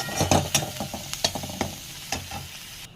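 Chorchori of eggplant, potato, carrot, ivy gourd, Malabar spinach stalks and shrimp frying in a pan, with a close, quiet sizzle and several sharp scrapes and clacks of a spatula as it is stirred.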